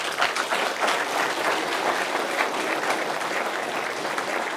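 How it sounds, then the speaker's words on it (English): Steady, dense applause fills the whole stretch, many hands clapping at once with no break and no voices standing out. "Hoorah and clapping and all that."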